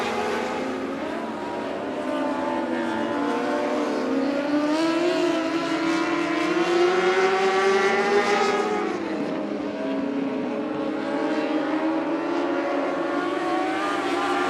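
Sprint cars race at Coos Bay Speedway, a pack of engines howling and swelling as they pass, the pitch rising and falling with the laps, heard from trackside at moderate distance.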